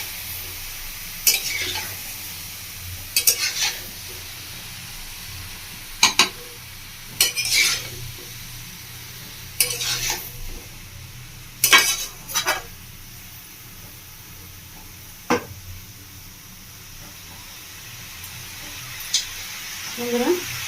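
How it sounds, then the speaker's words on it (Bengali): Kadai chicken sautéing in a pan in a Bengali village kitchen, with a soft steady sizzle broken by repeated scraping stirs of a utensil against the metal, close and fairly loud. "ভালো করে কষিয়ে নেব।"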